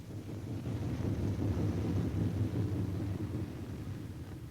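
A low, steady rumble of B-17 Flying Fortress bomber engines, one engine dead, drones on without a break as it approaches to land, muffled and somewhat distant.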